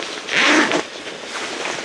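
A full-length leg zipper on camouflage hunting bibs, covered by a heat-tape flap, is pulled in one quick close rasping stroke, followed by soft fabric rustling.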